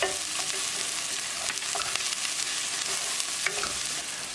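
Onions and green chili fry in a pan for lobster curry, a steady close sizzle broken by soft scraping and stirring knocks from the mixing spoon, with no voices.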